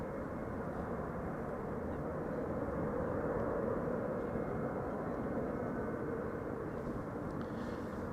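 An Airbus A300-600 airliner comes in to land, heard as a faint, distant, steady jet roar that swells slightly midway and holds evenly throughout.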